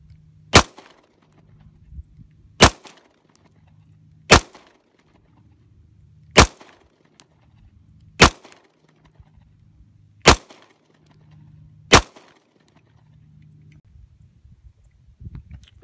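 Gunshots at an outdoor shooting range with SKS, Ruger SP101 and HK USP .40 firearms, seven sharp single shots spaced about two seconds apart, each followed by a short echo, with faint low rumble in between.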